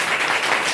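Children clapping together in a short, dense burst of applause, steady and fairly loud, with no talk over it.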